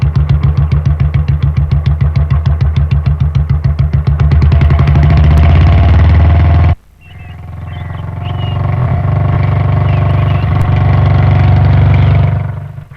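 A motorcycle engine putters in a rapid, even idle, then cuts out abruptly and is started again, settling into a loud, close, steady idle before fading slightly at the end; no talking.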